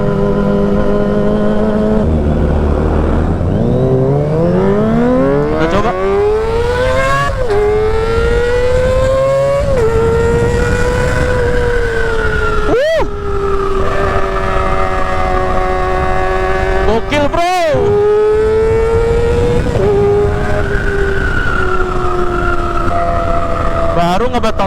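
A Kawasaki ZX-25RR motorcycle's engine climbs through the revs on a test ride, rising in long screaming sweeps with sharp gear-change dips between pulls, loud and close with wind rushing over it.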